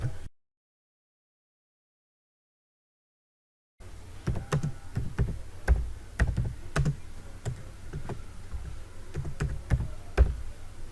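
Someone types an address on a computer keyboard in a quick, irregular run of close, crisp key clicks, following a few seconds of silence.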